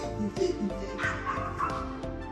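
A small dog yaps and yips repeatedly in short, sharp bursts, close by and fairly loud, during a squat workout, with no talk over the barking.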